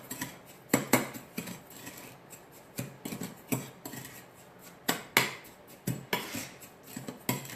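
Bath salts are stirred around in a container, giving a run of faint, irregular scraping and clicking scratches, close up with short bursts and pauses.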